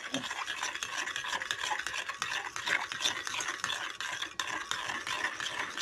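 A spoon stirs dried parsley into a cream sauce for a potato and onion dish, making a steady, continuous scraping swish close by with no talking.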